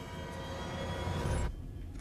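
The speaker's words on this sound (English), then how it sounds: "It's not even a regular elevator, it's a freight lift." A freight lift in Alien: Isolation moves with a heavy rumbling mechanical drone that stops abruptly, leaving a quieter hum.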